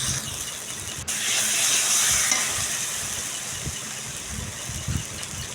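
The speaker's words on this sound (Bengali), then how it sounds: "তো দেখো, মশলাটা প্রায় আমার কষানো হয়ে গেছে।" Spice masala fries in a pan while being cooked down for a pointed gourd curry. A continuous hissing sizzle is heard, with a few soft stirring knocks and one sharp click near the start.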